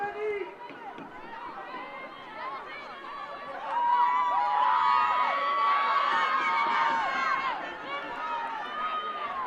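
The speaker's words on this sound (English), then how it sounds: "Northumbria crowd, smaller in size than that from Nottingham, but still trying to make a racket" Northumbria supporters at a women's university football championship final make a distant, steady crowd din of chanting and cheering, running under a commentator's voice.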